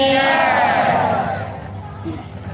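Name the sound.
crowd shouting a devotional jaikara chant at a sermon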